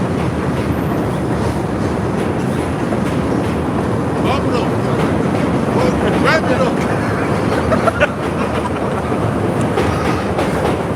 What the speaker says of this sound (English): wait for the train to go